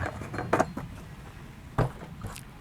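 Lid of a 20-litre plastic bucket pressed shut, two hollow plastic knocks about a second apart, close and moderately loud, with small handling clicks around them and no talking.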